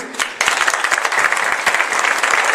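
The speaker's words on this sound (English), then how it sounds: "Big round of applause for him." An audience applauds loudly and steadily at a talk, after a guest is called up to the front, with dense clapping throughout and a quieter start.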